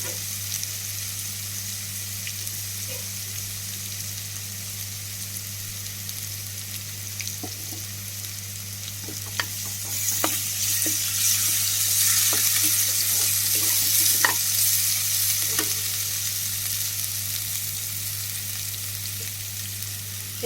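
A masala paste of ginger, garlic, onion, cinnamon, cardamom and poppy seeds fries in a pan for egg curry, a steady close sizzle that swells louder midway, punctuated by scattered stirring clicks.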